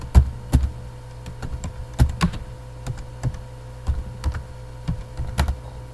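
Keystrokes on a computer keyboard during an Arch Linux install, tapping in short uneven bursts with brief pauses, close and clear with no talking.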